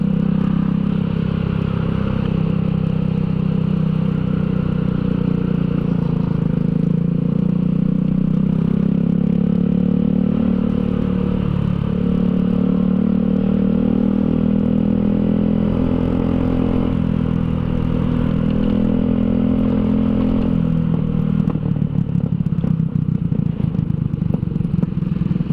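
A modified motorcycle being ridden, its engine giving a loud, steady droning rumble with a constant hum, heard close and alone for the whole stretch with slight shifts in pitch.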